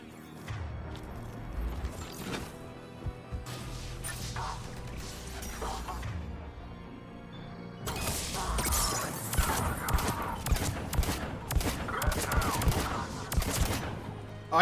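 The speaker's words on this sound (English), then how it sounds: "Oh, I can actually shoot this thing much faster than Mass Effect 2." Rapid bursts of gunfire from a weapon in the Mass Effect 3 video game, steady crackling shots that grow denser and louder in the second half, mixed with mechanical clanks and impacts.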